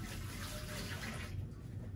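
Used water is emptied from a patient's wash basin during a catheter care demonstration, producing a brief, close pouring splash that runs steadily for about a second before thinning out.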